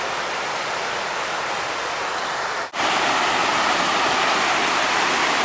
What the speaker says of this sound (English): I'm going to find a way to get closer to the falls